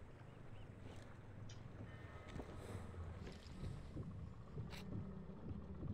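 A boat moves past in the video game Sniper Elite 4 with a steady wash of water and wind rumble, fairly faint, with no voices over it.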